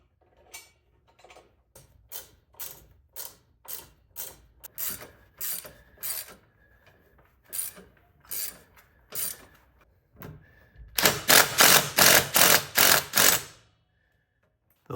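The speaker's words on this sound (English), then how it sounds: "We're going to tighten these down all the way till we get the bottoms mounted." A ratchet clicks in repeated bursts while tightening the bolts of a Flatout crash bar on a motorcycle bagger, with a louder, closer run of rapid clicks near the end.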